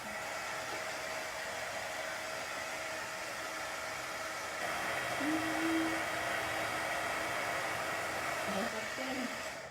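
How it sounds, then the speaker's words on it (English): A blow dryer blows a steady, even whoosh over chalk paste on a Dollar Tree banner, running continuously at close range and moderate volume for about ten seconds with no talk. "you can just set it to the side and let it dry, or dry real quick, or use a blow dryer"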